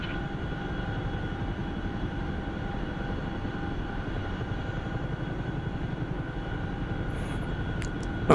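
Steady, continuous rotor and turbine drone of a Chinook helicopter in a video game flight simulator, even and unbroken throughout with no voices.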